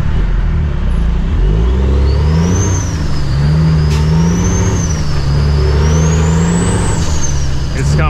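Heavy truck engine pulling away from a green light, a loud steady low rumble with rising and falling whine as it works up through gears, with talk over it.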